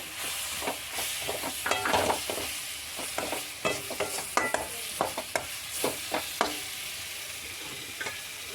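Chopped tomato hitting hot oil in a pan for Kerala style chickpea curry, a continuous sizzle and hiss broken by repeated scraping stirs of the spoon, close and fairly loud, no voices.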